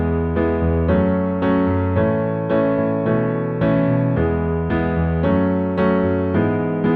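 Solo piano plays the intro of a song, steady rhythmic chords repeating in a regular pulse, clear and close with no voice.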